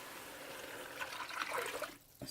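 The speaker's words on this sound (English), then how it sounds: "I'm going to start adding my liquids to this so I can get the lentils going." Water is poured into a pot of sausage lentil soup with garlic, a brief splashing rush that builds and then cuts off, fairly faint and without speech.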